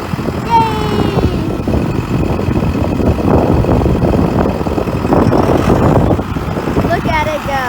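A repaired John Deere 5510 cab tractor's engine runs with a steady low, rough rumble close by, while faint voice-like tones and other sounds come and go over it.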